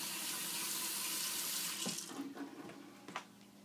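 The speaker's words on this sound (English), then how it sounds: "first I'm going to start by turning the cold water back on" Cold water runs steadily from a sink faucet in a faint, even hiss, then thins and breaks into softer splashing as the flow is cut off near the end.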